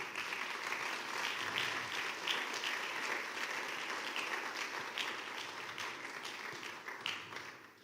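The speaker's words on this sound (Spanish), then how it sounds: "démosle un aplauso" A church congregation applauds after two baptisms, a dense, steady wash of many hands clapping at moderate distance that holds evenly throughout before easing slightly at the end.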